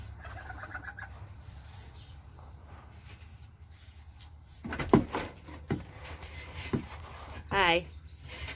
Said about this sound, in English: It appears that I have disturbed little chicken.